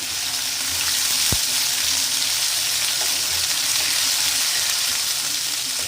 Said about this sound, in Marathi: आता त्यामध्ये 1 चम्मच आलं लसूण पेस्ट टाकायची, ती परतून घ्यायची।